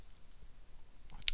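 A computer keyboard's print screen key is pressed once, giving a single sharp, close click near the end after a quiet stretch.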